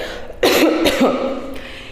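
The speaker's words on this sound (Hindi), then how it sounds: "जब भी आप इसको यूज़ कर लें उसके बाद 2 या 3 बार कफिंग करें, यानी कि खांसे इस तरह से।" Three short, sharp coughs spaced closely together, made deliberately after using a spirometer for breathing exercise, close and clear with no talking.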